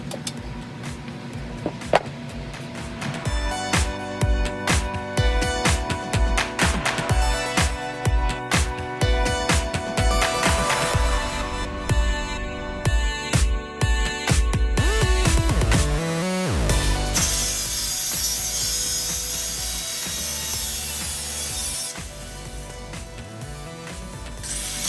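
A grinder works metal seat brackets and mounts off a GS500 cafe racer motorcycle, loud scraping and rattling bursts in uneven pulses, then a steadier harsh whine near the end, close and with no speech.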